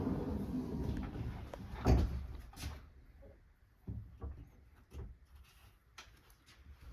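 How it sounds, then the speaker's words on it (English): Barn-style sliding doors inside a Jayco Northpoint RV roll shut, a soft glide then a muffled thump, followed by a few lighter knocks in a quiet interior. "The barn doors in these things I think look absolutely amazing. So you just slide those shut."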